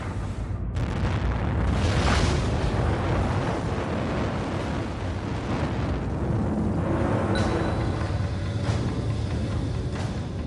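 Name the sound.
explosion of Yellowstone supervolcano mega-eruption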